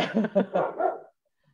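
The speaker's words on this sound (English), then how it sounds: "She's supposed to be there sunbathing, not barking." A dog gives a few quick yappy barks in succession, fairly close, then goes quiet.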